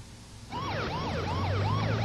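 Fire truck siren wailing in a fast rising-and-falling yelp, starting abruptly and staying loud and close over a low engine rumble, no voices.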